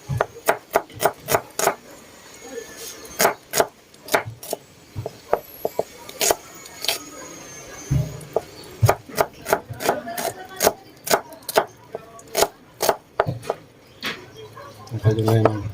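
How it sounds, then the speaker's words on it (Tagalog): Onions being sliced on a cutting board for oyster kilawin, with a steady series of sharp knife taps, close and crisp, in quick irregular runs and brief pauses, and faint talk at moments. "Iwa tayo sibuyas."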